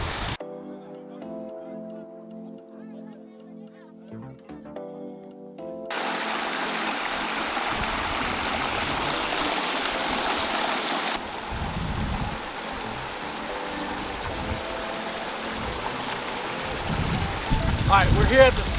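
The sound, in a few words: water flowing down a pondless waterfall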